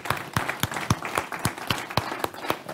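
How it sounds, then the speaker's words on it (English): Audience applause, scattered claps in an irregular rhythm rather than a full dense ovation, moderately loud and close, with no talking over it. "Let's give Sam a round of applause, man"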